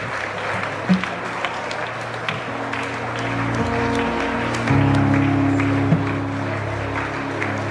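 Congregation clapping hands during a live church prayer service, steady rhythmic claps mixed with sustained music and voices in the background.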